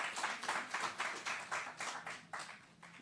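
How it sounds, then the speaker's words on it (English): Brief, moderately quiet applause from a crowd at an outdoor groundbreaking ceremony, a few seconds of uneven clapping in rolling bursts. "So let's give them a round of applause."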